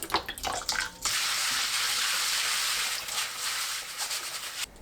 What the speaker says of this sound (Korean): 물에 헹궈주세요.